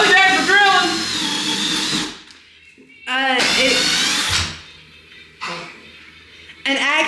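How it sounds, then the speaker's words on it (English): A power drill whines through several bursts during a mobile home entryway makeover, loud and close. The first two runs are long and the later ones are shorter, with its pitch rising as it spins up. "Well, we're there for drilling."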